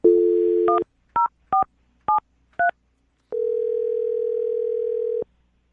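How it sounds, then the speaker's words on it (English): A telephone gives a steady dial tone, then five short touch-tone beeps as a number is dialed, followed by a long sustained tone, all clear and close with no talking. "I'll dial this phone number right now"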